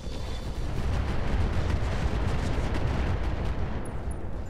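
A volley of mech weapons fires in the BattleTech game Roguetech, a dense, continuous roar of overlapping booms and blasts that stays loud and sustained throughout, with no talking.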